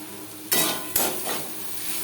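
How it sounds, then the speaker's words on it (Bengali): Teasel gourd fried with grated coconut is stirred in a pan over a low sizzle, with two sharp scraping strokes of the spatula standing out near the start. "কাঁকরোলের সাথে নারকেল বেশ ভালো করে মিক্সড করে দেবো"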